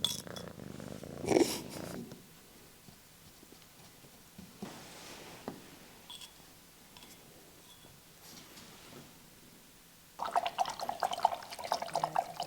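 A domestic cat purrs close by in a pottery workspace where handmade tiles are being made, a soft rhythmic purring heard in brief bursts near the start and again more steadily toward the end, with quiet stretches between and no talking.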